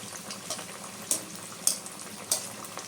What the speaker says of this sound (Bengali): আমি খাজাগুলি উল্টিয়ে পাল্টিয়ে এই যে ভেজে নিচ্ছি